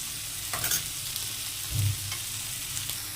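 Ginger, garlic and cumin paste sizzles in a hot frying pan, a constant close hiss broken by a few scrapes and stirring knocks of a spoon against the pan.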